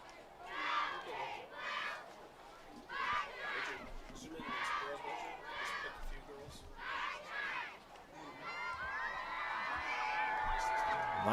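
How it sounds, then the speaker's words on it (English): Youth cheerleaders chanting a rhythmic cheer in unison at a high school football game, with repeated shouted phrases over a faint crowd murmur. "Here's a cheer."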